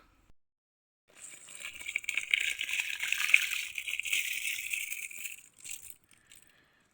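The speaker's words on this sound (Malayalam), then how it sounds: "ഇതാ വെള്ളം നന്നായിട്ട് തിളച്ചിട്ടുണ്ട് കേട്ടോ, വെട്ടി തിളക്കുന്നുണ്ട്. നമുക്ക് പച്ചരി ചേർത്ത് കൊടുക്കാം" Raw rice poured into vigorously boiling water makes a close, rushing hiss and patter lasting about four seconds, starting after a short quiet gap and tapering off into a few faint trailing grains.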